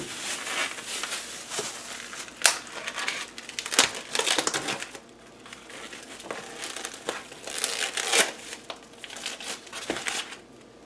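Three pounds of chopped meat added to a bowl and mixed for a large meatloaf, producing wet squelching, crinkling and slapping sounds in irregular bursts, close and fairly loud with no talking.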